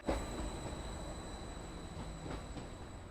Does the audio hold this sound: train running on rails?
yes